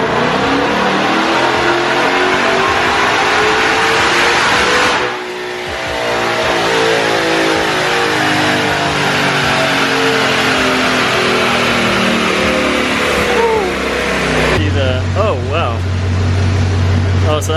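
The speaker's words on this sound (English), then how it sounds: "Let's go ahead and fire her up and rip it." A stock 2020 Shelby GT500 Mustang with its supercharged engine roars through a long, loud full-throttle pull on a chassis dyno, rising in pitch before a brief dip, then climbing again and settling to a low idle near the end.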